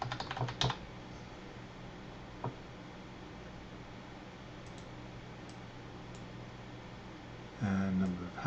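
Soft keystrokes tap on a computer keyboard in a few brief clusters under steady background hiss, with a louder burst of clicks near the end and a faint voice nearby.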